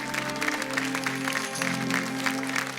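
Studio audience applauding on a Marathi television talk and game show, a steady wash of clapping with a faint voice underneath, sustained throughout.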